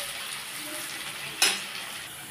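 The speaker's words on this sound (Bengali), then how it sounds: "যত ভালো করে কুচনো পেঁয়াজটা আমি ভাজবো, একটু লাল লাল করে ভাজবো পেঁয়াজটাকে" Chopped onions fry in a pan, giving a steady hiss, and a brief louder scrape of stirring comes midway; the sound stays close and even, with no talking.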